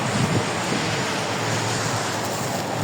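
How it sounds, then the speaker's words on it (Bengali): Steady rain falling outdoors in Riyadh over muddy, waterlogged ground, a dense continuous hiss with some wind rumble, with no voices over it. "ভালোই বৃষ্টি হচ্ছে, চারদিকে কাদা পানি,"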